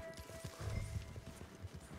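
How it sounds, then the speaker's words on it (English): Horse hooves in the video game Red Dead Redemption 2, a quiet, uneven run of clip-clop hoofbeats on the ground with no talk over them. "My horse is bucking."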